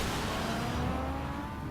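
A Batmobile engine roars steadily in Batman: The Enemy Within, a loud, close, sustained rev that stays at an even level for a short moment with no talking over it.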